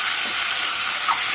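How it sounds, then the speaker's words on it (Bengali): Steady hiss and sizzle of fish frying in a pan with potatoes and spices, a dense even crackle with no pauses, close and fairly loud. "মাছগুলো দিয়ে এবার আবার এইটাকে ভালো করে কষানো হবে"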